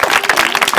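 Children at a school event clap in a quick, dense burst of applause, close and steady for a moment.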